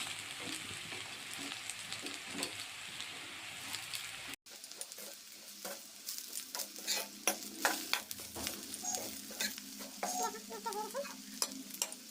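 Chili, cumin, coriander powder, salt and turmeric are stirred in a sizzling pan, with a steady fry hiss, then a brief cut followed by closer scraping spoon strokes over the spices.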